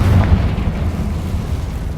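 A Confringo blasting spell explodes in Hogwarts Legacy, a dense, rumbling blast that stays loud and fills the whole short stretch with a low roar.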